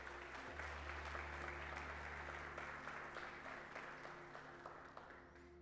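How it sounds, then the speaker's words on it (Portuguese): A church congregation applauds during a sermon, a steady patter of many hands clapping that slowly fades, with a low hum beneath it. "Você pode aplaudir o Senhor por causa disso?"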